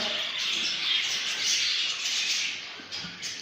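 Budgerigar chicks and pigeons in an aviary, a dense continuous high chirping chorus at moderate loudness with a few softer coos underneath.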